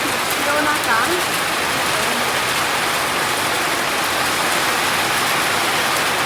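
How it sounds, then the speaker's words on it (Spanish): Heavy rain pours steadily as a dense, loud, continuous wash over a building site seen from high up, with faint voices briefly underneath near the start. "el cielo se abrió con mucha lluvia"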